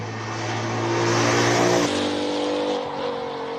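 A race car driven by Paige Lindenberg climbs the Cape Town hill-climb course in a qualifying run, its engine holding a steady droning note, then dropping pitch with a gear change midway as it carries on at moderate distance.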